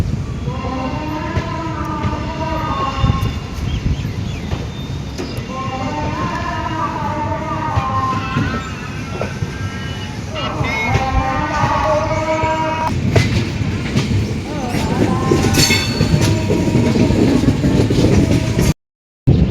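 Passenger train 15655 from Guwahati to Katra rolls past Bhareli junction, a loud, continuous rumble of wheels and carriages with steady clattering rhythm, heard from on board and swelling slightly toward the end.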